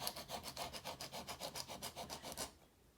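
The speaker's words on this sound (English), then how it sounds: "It's a scraper, and you're just going to get the basic part" Scraper pushed back and forth to scrape chalk paste off a surface: about fifteen quick even rasping strokes in a steady rhythm, close and fairly quiet, then stopping with a short knock at the end.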